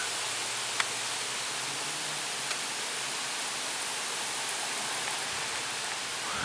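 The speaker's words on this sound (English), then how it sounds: "Oh, actually, here we are, the rain." Steady rain hisses outdoors ahead of an approaching thunderstorm, a dense even wash of falling drops with a couple of faint ticks, no voices over it.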